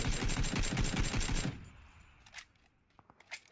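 Rapid automatic gunfire in a video game, a dense burst of shots for about a second and a half, then quieter scattered impacts and clicks trailing off.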